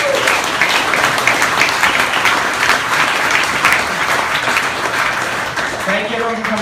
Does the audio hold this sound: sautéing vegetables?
no